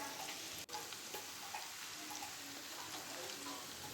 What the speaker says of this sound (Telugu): కరివేపాకు బాగా ఫ్రై అయ్యేంత వరకు వేయించుకోవాలండి